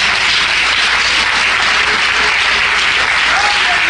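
Congregation at a Holy Week church service applauds, a steady, dense wash of many hands clapping together, loud and sustained throughout without any break.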